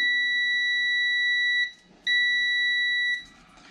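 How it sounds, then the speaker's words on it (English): A multimeter in continuity mode beeps while testing a 10K fader potentiometer, giving two loud, steady high-pitched tones of about a second and a half each, separated by a short gap. "let's have the multimeter on continuity mode first. And let's see if we have any connection here."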